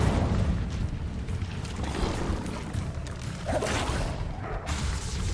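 An Incendio fire spell goes off in the game Hogwarts Legacy, a loud, roaring whoosh with a booming rumble underneath that surges and swells over several seconds.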